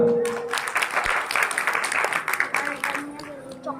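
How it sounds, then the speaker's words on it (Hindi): Applause from a crowd at a village Guru Ravidas jagran event honouring a student, a burst of clapping that carries on under someone speaking over a loudspeaker. "इसके लिए जोरदार तालियां।"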